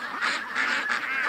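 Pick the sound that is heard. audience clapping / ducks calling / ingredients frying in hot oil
ducks calling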